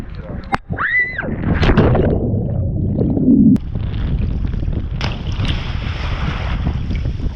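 A motorboat rumbles along in Hurghada, Egypt, under heavy buffeting wind noise, with a voice calling out briefly over the steady roar.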